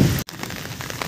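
Rain falls outdoors in a steady, close hiss of drops pattering on surfaces, briefly cut off for a moment before the even downpour resumes.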